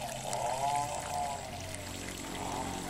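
Water pours steadily through a home filtration system during backwash, a continuous rushing flow that stays near and even in level with no talk.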